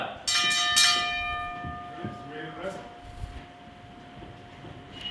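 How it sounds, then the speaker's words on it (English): A wrestling ring bell clangs several quick times at the start of a match, ringing out loud and then decaying under crowd noise and commentary. "Ring the bell."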